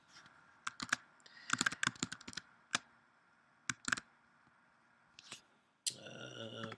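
Keys clack on a computer keyboard in short irregular bursts while a search is typed, close and crisp against a quiet room, followed by a brief electronic tone at the end.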